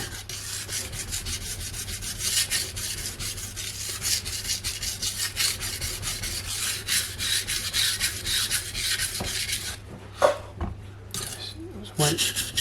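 A kitchen knife under edge repair being rubbed on Naniwa Superstone and Pro whetstones, steady rhythmic gritty strokes back and forth, close and continuous, ending with a few louder scrapes and taps.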